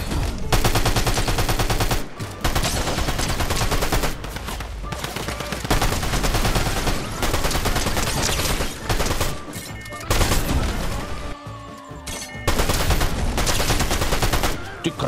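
Loud, dense automatic gunfire in a zero-build Fortnite match, coming in long rapid bursts with brief gaps, layered over game music with a player's voice now and then.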